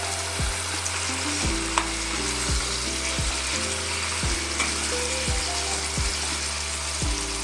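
Chicken pieces fry in a pan with salt and turmeric, giving a steady close sizzle. Regular clinks and scrapes from stirring punctuate the sizzle, and no one speaks.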